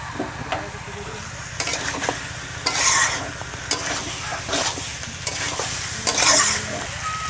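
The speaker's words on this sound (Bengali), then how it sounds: "মশলা কষানো হয়ে গেছে, আলু পটল ভাজা দিয়ে দিচ্ছি।" Fried potato and pointed gourd are stirred into a pan of sizzling cooked-down masala. Close, repeated scrapes and clacks of a spatula come in an uneven rhythm over a steady frying hiss.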